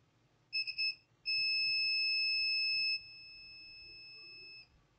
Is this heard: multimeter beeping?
yes